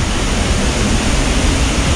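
A Dalat waterfall in Vietnam swollen after heavy rain: a loud, dense, steady roar of rushing water with broadband hiss and no other sounds, close and unbroken.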